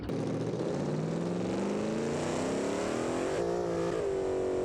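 A 3,000 HP twin-turbo E85 hot rod engine in the BeamNG driving game revs hard and steadily climbs in pitch through a long pull, loud and continuous with no talking.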